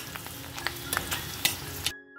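Spices fry in a pan for a Bengali vegetarian pointed gourd dish, a close, quiet sizzle with scattered sharp crackles and pops before the sound cuts off near the end.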